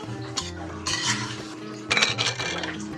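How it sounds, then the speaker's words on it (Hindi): Metal spoon scraping and clinking against a pan while chicken karahi is mixed on the stove, a few sharp clanks and scrapes in bursts, close and fairly loud with no talking. "तकरीबन 5 मिनट के बाद इसको थोड़ा सा मिक्स कर लेते हैं।"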